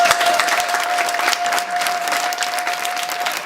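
An audience at a charity and cultural gathering in DR Congo claps steadily and densely, a continuous wash of applause with no break.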